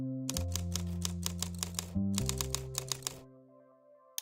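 Fast, steady keystrokes on a computer keyboard, crisp and close, heard alone over a sustained tonal drone that stops after a few seconds.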